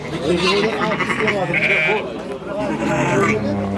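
Sheep with lambs bleat at a livestock market in Kentau, several wavering bleats rising close and loud over crowd chatter and nearby voices talking.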